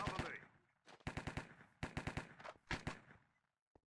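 Rapid bursts of automatic gunfire in a Minecraft cops-and-criminals match on the Hypixel server, several short loud volleys separated by brief pauses, with clipped sharp reports and a sudden single shot near the end.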